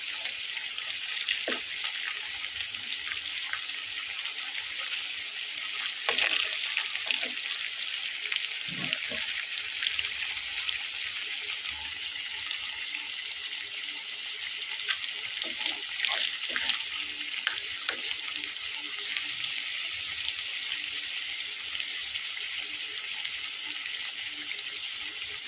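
A batch of raw-potato snacks deep-fries together in oil over a medium flame, producing a steady close sizzle and hiss with scattered pops and crackles throughout.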